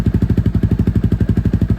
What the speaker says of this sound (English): You can kind of choose where you got your bike idling at just by adjusting this.